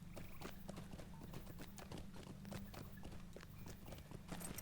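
Horse hooves clip-clop in a steady trot in a fantasy role-playing video game as the rider heads toward a town hall, with a busy game backdrop and occasional faint whinny-like tones.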